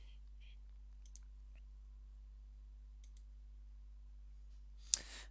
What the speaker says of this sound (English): you want to click on the File Manager icon